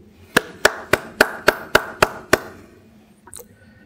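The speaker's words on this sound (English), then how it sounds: "Please join me in one final round of applause for all of our recipients this evening." A round of applause for award recipients at a regimental awards ceremony: eight sharp, evenly spaced claps in quick succession, fairly close and loud, then a pause and a faint scuffle.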